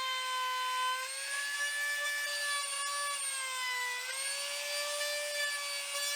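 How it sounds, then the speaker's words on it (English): A router spins while rounding over the edges of scaffold board wood, holding a loud, steady high whine with clear tonal bands that waver slightly as it travels along the board, close and continuous with no voices. "And I'm gonna round the edges again with a router."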